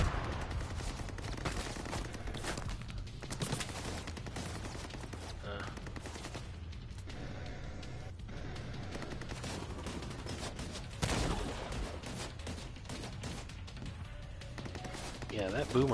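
Rapid gunfire from a multiplayer video game shooter, with continuous bursts of automatic weapon fire and a heavier volley near the end, heard at moderate level throughout.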